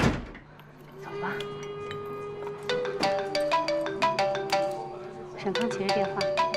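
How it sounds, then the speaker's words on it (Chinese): A mobile phone ringtone plays in a drama scene after a bar, a repeating melodic electronic tone pattern that grows busier and louder, with no speech over it. "沈康接着电话。"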